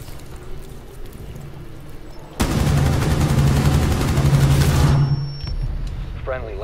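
Gunfire in Rainbow Six Siege: a sudden loud burst of rapid automatic fire kicks in partway through, lasts a few seconds, then cuts off. Quieter game noise and a voice can be heard around it.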